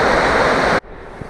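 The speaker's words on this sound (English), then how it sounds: "See, it's a pretty sizable creek." Sizable Pine Creek, swollen with snowmelt in Montana's Absaroka Beartooth Mountains, roars under a bridge as a loud, steady, close rush of water that stops abruptly, leaving faint background.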